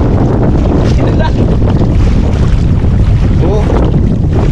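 Heavy wind buffets the microphone over the roar of a fishing boat moving through choppy sea, with waves splashing throughout.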